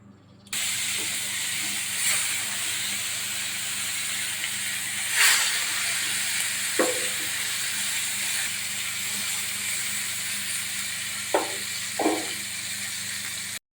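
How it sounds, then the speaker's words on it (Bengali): Hilsa fish paturi wrapped in home-grown pumpkin leaves fries in hot oil, giving a steady, loud hiss and sizzle throughout, with a few brief sharper pops and crackles. "ওই তেলের মধ্যে বাকি ইলিশ মাছের পাতুরিগুলো দিয়ে দেবো।"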